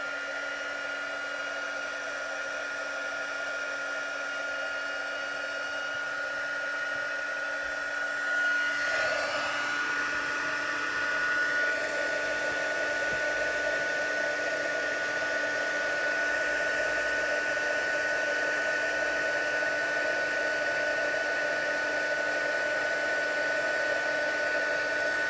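A heat tool blowing hot air for craft masking work runs as a constant loud whooshing drone close by for the whole stretch, with a slight shift in tone partway through.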